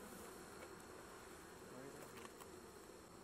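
Honey bees buzz around hive frames during an inspection, a dense continuous drone, close and steady, with many insects humming together at low overall level.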